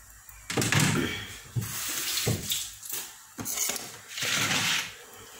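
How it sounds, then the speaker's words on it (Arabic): Water poured into a cooking pot while making kefta with tomatoes, splashing and gurgling in uneven bursts with a few metallic clinks of the pot, close and fairly loud with no voices. "وهاد الماء نديرو هنا"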